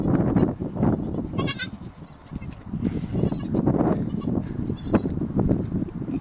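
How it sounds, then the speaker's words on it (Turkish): Several hungry goats bleat nearby, overlapping cries rising and falling amid rustling and shuffling of animals in a pen. "Keçiler acıkmışlar ya."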